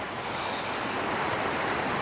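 Steady, full rush of waterfalls and fast water tumbling over rocks, heard from the middle distance as a dense, unbroken roar with no voices.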